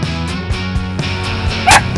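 A dog gives a few short, sharp barks close by on a sailboat over a steady mechanical hum, with one louder yip near the end.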